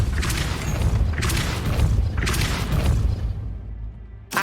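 A Depulso spell cast in the video game Hogwarts Legacy lands as a series of heavy booming bursts with swooshing noise, three or four broad blasts spaced about a second apart, loud and close, with no talk over them.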